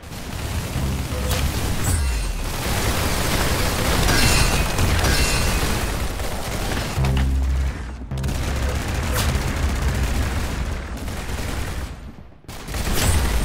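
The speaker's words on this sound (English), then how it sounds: "Wow, you got a headshot." Rapid bursts of gunfire and booming shots from a Roblox Arsenal first-person shooter match, dense and loud almost throughout, with explosions and brief pauses near the middle and end.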